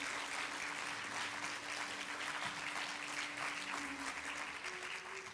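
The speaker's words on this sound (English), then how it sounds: "A big round of well-deserved applause for the both of them" An audience claps steadily for two dancers after a Bharatanatyam arangetram, a dense even wash of applause throughout with a faint tonal hum running underneath.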